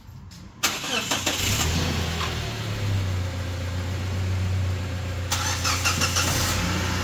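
A Toyota car engine cranks and catches at the start, then settles into a steady, loud idle hum that runs throughout, with a brief rise in revs near the end.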